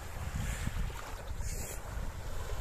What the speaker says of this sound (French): excepté le bruit des vagues